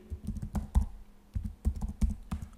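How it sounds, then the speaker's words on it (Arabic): Keys clatter on a computer keyboard as an email address is entered, quick irregular bursts of close, crisp clicks with short pauses between groups, no voice present. "نكتب الإيميل"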